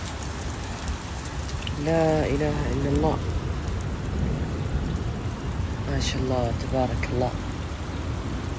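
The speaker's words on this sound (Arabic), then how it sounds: "أمطار خير وبركة" Steady rain falls throughout, a dense continuous hiss close by, while someone speaks devotional phrases over it in two short bursts.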